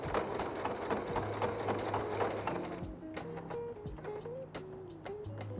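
A sewing machine stitches a batik tote bag, its needle running in a steady rapid mechanical patter throughout, close and fairly loud, with the motor hum shifting pitch partway through.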